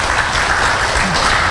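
Audience applause at a full moon meditation gathering: dense, steady clapping that fills the room at a loud, even level from start to finish, with no voices rising above it.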